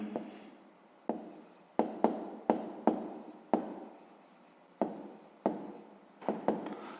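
A pen writes numbers on paper for a fifth-grade math exercise, with a series of close, crisp scratching strokes and taps in an uneven rhythm, each starting sharply and then fading, in a quiet room.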